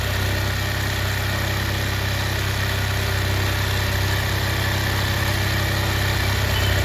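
A small petrol engine running steadily at about 3840 RPM during carburettor tuning, a loud, continuous, close drone with constant vibration and no change in pitch.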